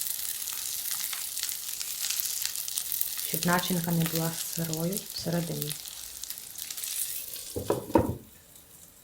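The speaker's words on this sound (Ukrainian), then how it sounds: "Смажу бандерики з обох сторін приблизно по 5 хвилин з кожної сторони" Steady sizzling and crackling of meat-filled crepes frying in a pan throughout, with someone speaking over part of it and a brief clatter near the end.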